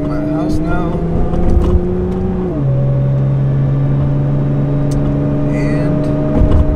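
Steady engine drone from a Nissan GT-R R35 driving along, fitted with an aftermarket Titan street exhaust and catless downpipes; a low exhaust tone drops in pitch midway as it shifts, smooth and muted rather than loud.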